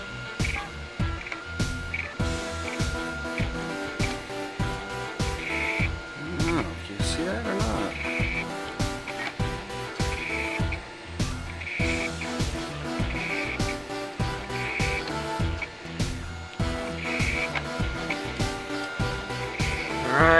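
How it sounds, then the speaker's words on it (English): A MakerBot Thing-O-Matic 3D printer prints a Lego train toy, its stepper motors whirring and buzzing in rapid repeating patterns with regular tonal chirps, close and steady for the whole stretch. "here's my 3D printer printing"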